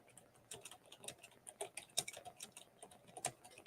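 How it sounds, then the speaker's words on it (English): Slow, uneven typing on a computer keyboard, with close key clicks in irregular bursts and no voices. "Brace yourself for how slow I type."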